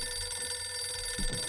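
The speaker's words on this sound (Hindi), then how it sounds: "घंटी बजी फ्रेंड्स," An old telephone bell rings in the horror game Visage, a faint metallic ringing held steady in the background with a soft thump near the end.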